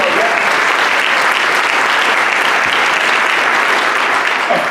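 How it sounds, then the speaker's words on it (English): Audience applause at a mayor's State of the City address to a Rotary Club, honoring snow team members; dense, steady clapping from a large crowd fills the room loudly and continuously throughout. "Let's have a round of applause for all of them."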